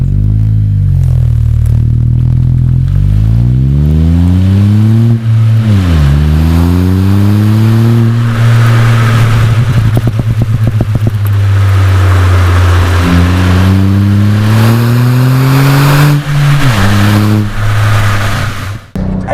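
A modified VW Up GTI hatchback engine revs hard through the gears, its exhaust rising and dropping with each shift, loud and close, with popping crackles between pulls.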